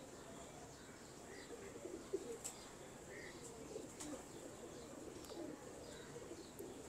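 Sheikhupuri Dumcheer pigeons coo softly in a quiet setting, faint low murmuring calls over light background noise, with a few sharp clicks scattered through.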